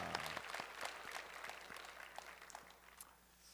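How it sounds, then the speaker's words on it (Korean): Church congregation applauding the worship choir and instrumental team at a Sunday service, scattered clapping that thins out and fades over a few seconds. "감사한 마음으로 한번 박수 한번 하실까요?"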